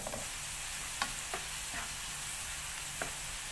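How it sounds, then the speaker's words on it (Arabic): Onion sautéing in oil in a frying pan, a soft continuous sizzle broken by a few light scrapes of stirring, no talking. "درت المقله، درت فيها شويه ديال الزيت، ضفت عليها بصله، دابا غنشحر هاد البصله مزيان حتى تنزل."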